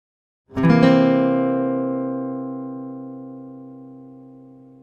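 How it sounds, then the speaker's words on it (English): A single strummed C dominant seventh chord on guitar rings out clearly and sustains, slowly fading over several seconds after a brief silence. "I'm going to play the C dominant seventh."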